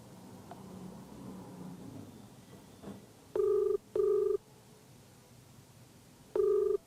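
Outgoing phone call tone from a news reporter redialing a number: two short steady beeps back to back, a gap, then a third beep, loud and clean over faint background hiss.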